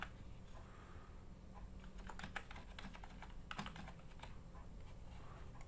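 An ID card number being typed on a computer keyboard, a quiet run of irregular clicking keystrokes with a few sharper taps, no talk.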